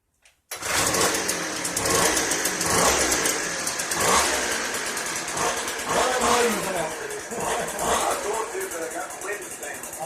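A 2010 Poulan leaf blower with a starting problem runs after a quiet start, its small two-stroke engine buzzing loudly and close with uneven throttle surges, while people talk over it.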